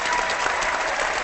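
Applause sound effect in a podcast, a brief burst of dense crowd clapping, loud and steady for about a second with no voices.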